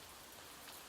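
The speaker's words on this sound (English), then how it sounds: "carried away by the soothing sound of rain" Steady, soothing rain falls as an even hiss with no pauses or voices, soft and continuous through a very short stretch.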